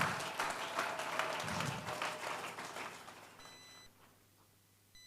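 A church congregation applauding and acclaiming God, dense clapping from a large crowd that swells, then thins and fades into near silence over several seconds.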